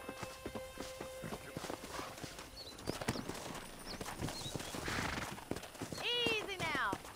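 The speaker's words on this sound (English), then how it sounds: "That ranch hand said there's a pack of wild horses nearby." Horse hooves clip-clop in an open-world western game, with several whinnies and neighs rising near the end, heard beneath ongoing talk.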